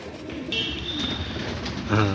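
Pigeons coo in a backyard loft where paired birds are feeding their chicks, a soft low cooing over a steady murmur of background noise, with a louder burst of cooing near the end.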